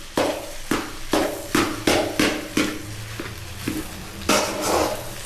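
Ingredients for egg pasta fry in a pan, stirred with about eight regular, close scraping strokes of a utensil against the metal over a low, constant sizzle.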